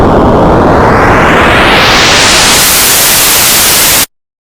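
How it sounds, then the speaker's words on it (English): Loud, steady hiss of white noise like untuned TV static, filling everything for about four seconds before cutting off abruptly into silence. "you hear white noise, like the kind of noise you get when your TV is out of tune."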